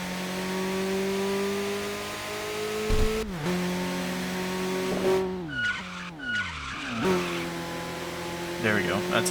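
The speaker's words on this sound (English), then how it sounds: "There we go. That's a nice drift." A car in Tokyo Xtreme Racer 2025 slides into a drift, its tires squealing in long screeching bursts over a steady engine drone and shifting revs, close and loud, while someone talks over it.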